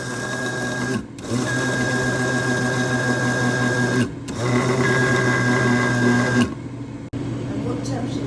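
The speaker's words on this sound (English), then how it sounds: "Coffee grinder, that's perfect for the almonds." A small coffee grinder grinding toasted almonds whirs loudly in several bursts, stopping briefly between runs, its high buzzing drone constant while it runs.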